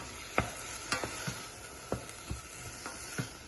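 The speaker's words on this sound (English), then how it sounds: "And we just keep slowly, gently stirring." A utensil slowly stirs creamy vegetable pasta in a pan, giving a string of about eight distinct scraping knocks over a soft, steady sizzle, close and with no talk.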